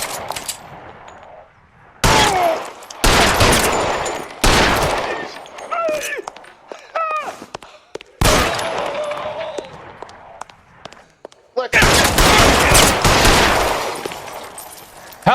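Bursts of gunfire in the crime game LA Noire, loud close volleys alternating with quieter stretches that carry ringing, metallic tones and shouted voices.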